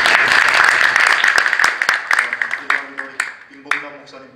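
A church New Year gathering audience breaks into encouraging applause, a dense wash of clapping that thins out into scattered individual claps. A speaker's voice comes through over the tail end.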